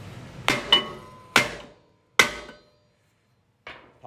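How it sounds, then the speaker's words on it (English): Hammer strikes a stuck brake rotor on a Toyota Sienna rear wheel in four sharp metallic blows at uneven intervals, ringing briefly, followed by a lighter clank after a pause, close and without talk. "you're wondering what we're gonna use the hammer for. So a lot of times, these rotors are stuck on if they've been on a while."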